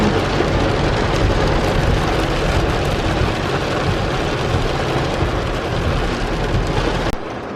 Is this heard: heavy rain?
yes